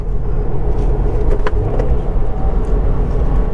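A 2020 Subaru WRX engine during a manual downshift to second gear with rev-matching blips, a loud, steady low rumble with short revving bursts heard from inside the cabin.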